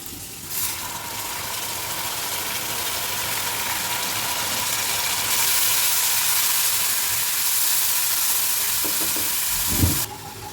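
Garlic water poured into a pan of onions fried until pink, ahead of chicken choliya, giving a steady broadband sizzle that swells louder partway through, with a few brief clinks near the end and no voices.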